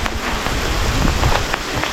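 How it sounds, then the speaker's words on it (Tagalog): Hail pelts down steadily at the Mount Taranaki ski field in New Zealand, a loud, dense patter of small pellets drumming on surfaces close by, continuous and without talk. "Inabot tayo ng hailstorm."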